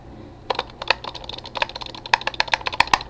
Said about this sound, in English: I keep on clicking like this.